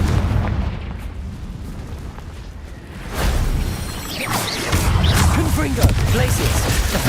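A Confringo fire spell explodes in the video game Hogwarts Legacy, with a low rumble that swells into a loud booming whoosh and crackling bursts over the last few seconds.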